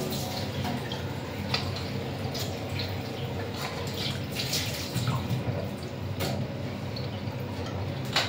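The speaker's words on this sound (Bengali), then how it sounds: "আমি ফলটা ধুয়ে নিতেছি এখন।" Fruit is rinsed under running water from a tap, a steady close splashing and trickling stream with occasional drips, heard alone.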